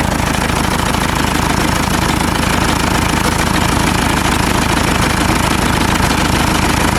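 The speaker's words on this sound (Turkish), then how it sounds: "Motorun sesi değişmeye başladı." Car engine running with almost no coolant, the radiator and expansion tank drained so it overheats, giving a loud, steady, rough mechanical clatter that continues unbroken throughout.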